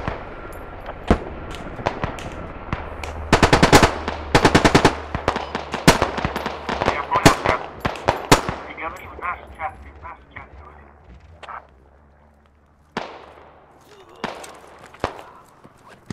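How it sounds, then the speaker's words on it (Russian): Gunfire from the tactical shooter Squad: a rapid series of sharp, loud cracks in bursts, some clustered and some isolated, with a low rumble under them, then scattered distant shots after a lull. "Какой-то снайпер стреляет, не пойму где."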